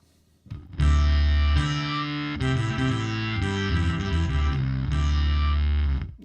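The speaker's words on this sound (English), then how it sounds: "We put on this synthesizer to get that synth. And this chord bass effect." Bass guitar run through Guitar Rig 6 software with synthesizer and chorus effects, giving a thick, buzzing, synth-like tone that sustains chord-like notes in several long phrases, loud and without talk.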